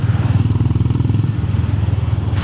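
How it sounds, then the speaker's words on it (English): Honda GB 350 S motorcycle under way, its single-cylinder engine thumping in a steady, rapid low pulse, loud and close, with a brief dip in tone partway through. "I think besides the look, the sound is the best on this bike."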